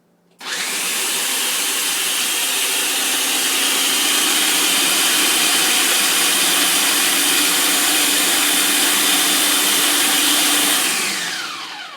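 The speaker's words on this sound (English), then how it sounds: "I'm not super familiar with this food processor, so forgive me ahead of time. Alright, so this might be a little loud." Food processor whirring continuously for about eleven seconds while blending raw ingredients, loud and close, starting abruptly and winding down at the end, with no voices.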